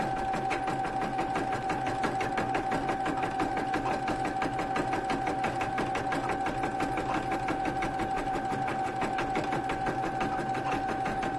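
Stitching on a Brother Innovis 1500d sewing machine, heard up close as an unbroken, even mechanical whir with a fast ticking stitch rhythm that holds steady the whole time.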